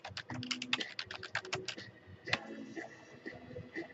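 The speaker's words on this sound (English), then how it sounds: "if I could type" Rapid typing on a computer keyboard, a quick run of crisp key clicks for about two seconds, then a few scattered taps as activity slows.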